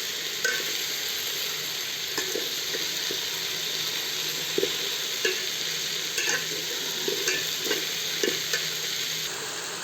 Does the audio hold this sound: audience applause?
no